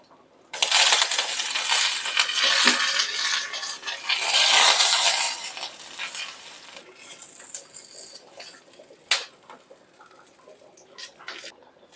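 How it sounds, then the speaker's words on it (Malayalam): Mustard seeds splutter in hot oil with dried red chillies, a loud dense crackling burst that tapers into scattered pops and sizzles, close up with no talking. "അപ്പോൾ കടുകൊക്കെ പൊട്ടിയിട്ട് നമ്മൾ വറ്റൽമുളക് ഇടാണ്"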